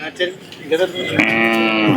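A cow moos with a long, drawn-out harmonic call in the second half, preceded by shorter lowing sounds amid the murmur of a busy outdoor native-breed cattle market.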